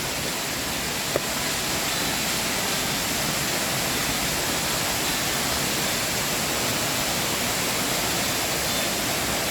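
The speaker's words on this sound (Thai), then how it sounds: "ก็คงถึงน้ำตกแล้วนะครับ" Constant rushing roar of falling water, broad and unbroken, from a nearby tiered waterfall in Mae Sariang, Thailand, in the dry cool season, with nothing else standing out.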